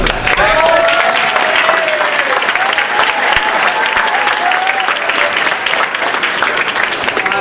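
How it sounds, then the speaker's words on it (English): Loud, sustained applause from a large crowd at an 8th grade step-up night, steady clapping filling the whole stretch with a faint murmur of voices mixed in. "a big round of applause too for Mr. Kessler for those amazing"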